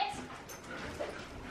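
A dog whimpers and yips softly in a home during obedience training, a thin whine running through a noisy room background.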